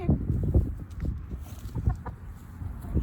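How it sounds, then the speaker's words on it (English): A fluffy Silkie rooster makes soft, low clucking sounds up close while pecking, with scattered short rustles and taps around it. "I have a rooster pecking me now while I'm trying to read to you."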